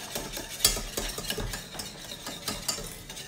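Pastry cream being stirred in a saucepan over medium heat, a whisk or spoon scraping and tapping the pan in quick irregular strokes, close and fairly quiet, with no voices.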